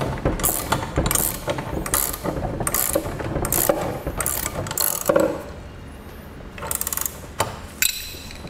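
A Dutton-Lainson trailer jack miter gear kit being turned by hand, giving bursts of ratcheting, clicking gear noise in uneven repeated spins with short pauses between them, close and fairly clear.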